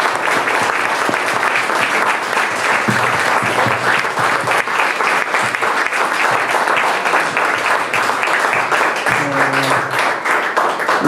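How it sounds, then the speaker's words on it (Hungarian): Audience at a Hungarian poetry reading event applauding the readers, sustained dense clapping across the whole stretch, loud and close, with a brief murmur of voices. "Egy tapsot azért ők is megérdemelnek."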